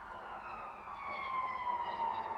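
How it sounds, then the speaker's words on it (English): An ambulance siren wails steadily in the distance, its tone sliding slowly downward and growing a little louder over a few seconds. "Ambulance there."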